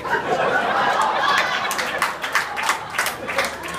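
Comedy club audience clapping and murmuring after a joke, a dense wash of applause with scattered chuckles that thins out over a few seconds.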